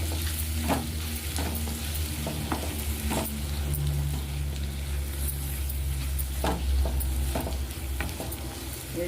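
Tomato rice mixed with salt and coriander in a hot pan gives a soft, continuous sizzle broken by repeated scraping and patting strokes of a spoon, close and steady.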